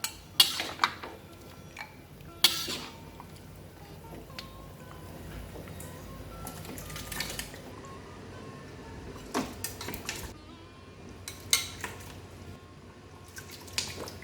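Lamb pilaf with basmati rice being moved from a wok back into a pot: scattered metallic scrapes, clinks of a utensil against pans and wet dripping, irregular and close, with no talking.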